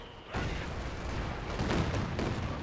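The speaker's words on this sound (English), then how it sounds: "Caddy is opening fire" Gunfire from a Caddy armored car in Company of Heroes 2 on the Road to Kharkov map, a sudden onset of heavy, sustained battlefield firing with repeated cracks and booms.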